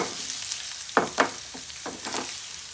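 Curry leaves and ginger hit hot oil during tempering, giving a few sharp, close sizzling bursts over a soft frying hiss, with no voices.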